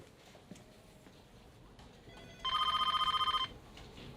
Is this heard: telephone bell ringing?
yes